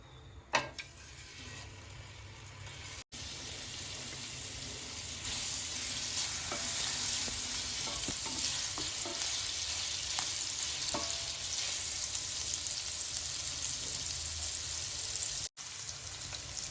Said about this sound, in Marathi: चला आता आपण पनीर फ्राय करून घेऊ तेल घालते